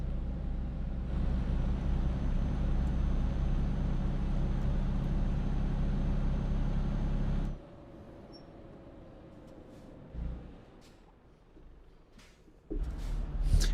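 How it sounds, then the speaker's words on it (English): A truck engine in Euro Truck Simulator 2 drones steadily with a low rumble for about seven seconds, then drops away to quieter road noise with a few clicks before the engine swells again at the end. "I'm sure the noises of my truck are not disrupting the residents at all."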